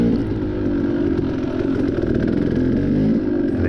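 A KTM 250 dirt bike engine roars steadily and loudly close up during an off-road cross-country race on a river trail, with a constant rasping drone and no speech.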